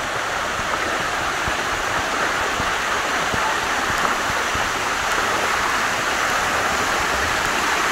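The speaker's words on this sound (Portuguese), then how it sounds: "Agora a gente vai passar pelo corredor de água." Steady flowing water rushing through a water corridor at the Parque das Fontes water park in Rio Quente, a continuous broadband wash like a stream or small waterfall, loud and close with no talk.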